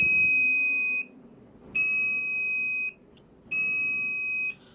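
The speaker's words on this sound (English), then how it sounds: "as soon as I power it on with the battery, you can see that the buzzer makes a sound" An active electronic buzzer powered by a 9-volt battery through a 5-volt regulator sounds three steady, piercing high-pitched beeps of about a second each, separated by short silences, close and clear with no talk.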